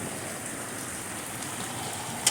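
Heavy rain from tropical storm Hilary in San Diego falls steadily in a dense, hissing wash, constant and close, with no voices.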